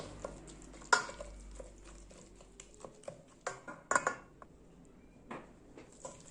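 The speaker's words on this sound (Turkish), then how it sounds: "Hafifçe şöyle kaşıkla karıştırıyorum" A spoon stirs cooked cranberries in a pot, giving a few soft scraping and clinking knocks against the pot at irregular intervals, close and fairly quiet.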